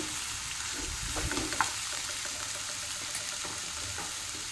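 Boiled, smashed potatoes are mixed in a pan over the gas flame, giving a low sizzle with soft scraping and light knocks from the spoon for several seconds, with no talking.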